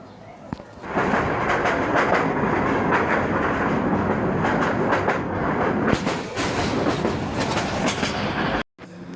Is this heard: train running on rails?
yes